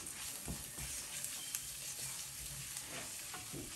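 Coriander seeds and cumin crackle and sizzle in hot oil, a dense steady hiss dotted with small pops and light stirring taps, close up and fairly quiet.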